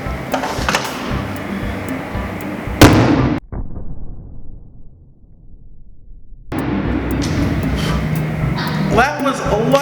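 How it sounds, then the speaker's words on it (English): A hydrogen-filled balloon bursting into flame during a flame test gives one loud sharp boom, a brief near-silent pause, then noisy room sound and chatter from people nearby. "That was a lot bigger boom. Had to have been hydrogen because of the boom in the first place."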